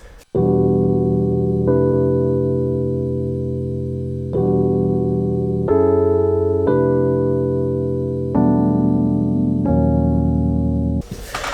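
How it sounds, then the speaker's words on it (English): Smooth Rhodes electric piano sample playing a slow progression of sustained chords, each change struck cleanly every second or two, warm and loud throughout with no speech. "I have this really smooth Rhodes sample to play about with."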